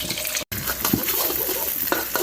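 Oil sizzles steadily in a hot pan as an egg fries, with occasional scraping and stirring sounds close by.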